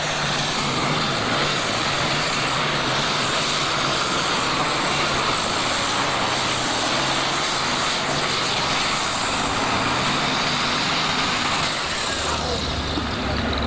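A turbocharged, alcohol-injected super stock pulling tractor with four turbochargers roars loud and steady at an Ohio State Fair pull, a continuous engine blast that drops off near the end while an announcer talks over it.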